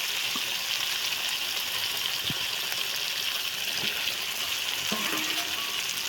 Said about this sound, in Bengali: এরপর আমরা ভেজে রাখা সবজিগুলোকেও দিয়ে দিচ্ছি, আলু, সয়াবিন ও